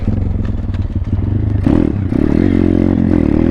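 A pit bike rides around a dirt pond track, its engine buzzing close up and then revving harder partway through, with rattling and clatter from the bike over rough ground.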